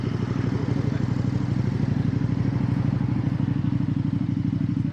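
A motorcycle engine drones steadily and close on a group ride to Finchingfield, with a rapid, even pulsing rumble and a little mechanical clatter that holds at a constant level throughout. No one speaks.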